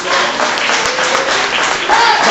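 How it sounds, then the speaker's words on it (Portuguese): A church congregation applauds loudly and steadily during a service, a thick continuous roar of many hands, with a voice faintly audible over it. "vamos aplaudir ao Senhor em nome de Jesus."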